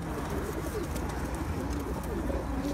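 Pigeons coo on a rooftop loft, a soft rolling warble repeating low under a constant broadband background hum, fairly close and continuous.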